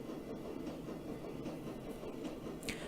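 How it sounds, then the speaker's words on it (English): A train rumbles along in the video game Shadowrun Dragonfall, a steady low mechanical drone with faint rhythmic clicks and a brief higher swish near the end. "the train rumbles its way towards Brandenburg Tor"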